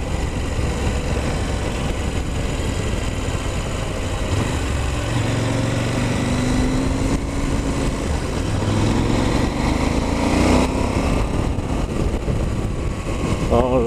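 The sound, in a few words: KTM 790 Adventure motorcycle riding through countryside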